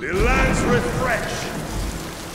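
Rain falls in the Smite video game around Chaac, a soft continuous patter and hiss, with a voice speaking over it at the start.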